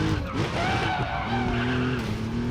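A Porsche 911 Carrera 4 (964) with a naturally aspirated 3.6-litre flat-six, driven in the Racing Master game, whines through shifting engine tones while tyres squeal, moderately loud and continuous.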